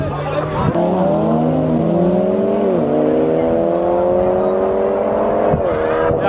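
Several car engines, including an Audi TT RS, rev and roar loudly and steadily at a street car meet in Łódź, pitch climbing and dropping between gear shifts, with voices in the background.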